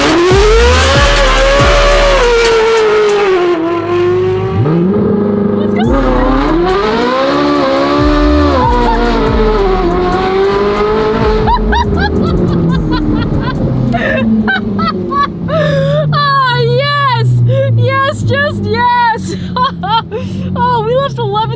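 Ferrari 458 with F1 race headers accelerating hard on track, a loud, close V8 scream climbing through the revs with sharp upshifts, while people talk excitedly over it.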